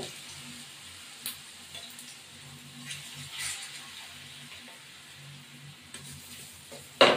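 Pieces of lentil cake fry in hot oil with a soft, steady sizzle, occasional louder crackles and stirring clinks, and a sharp burst of spitting at the very end.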